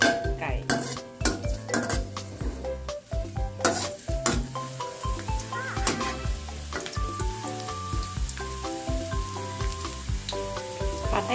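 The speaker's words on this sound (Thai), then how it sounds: "เดี๋ยวเราก็เอากระเทียมลงเลยนะคะ ผัดให้หอมก่อน แล้วก็ค่อยผัด" Garlic sizzles and crackles in a hot pan while a utensil scrapes and clinks against the metal in irregular strokes, close and fairly quiet.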